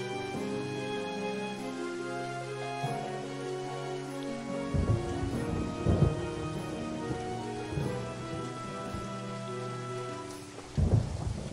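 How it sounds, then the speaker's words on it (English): Steady rain pours throughout a stormy scene in the video game Daggerfall Unity, with several deep rolls of thunder rumbling up at intervals, the loudest near the end. "I wish it was a bit sunny instead of raining"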